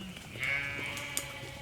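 Sheep bleat on a farm where most of the flock has just been sheared, a clear close bleat standing alone over quiet background noise with a brief sharp knock near the end.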